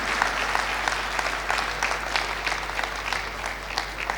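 Steady applause from a crowd of women cheering the President of Chad at an International Women's Day event, dense continuous clapping with no gaps across the whole stretch.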